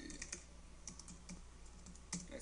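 Steady typing on a computer keyboard while searching a stock photo site, with faint, even key clicks over a constant background hiss.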